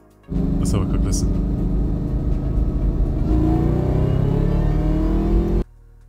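A 2003 Ford Mustang Cobra convertible engine revving loudly nearby, a deep rumbling idle that climbs in pitch as the throttle opens and then cuts off abruptly.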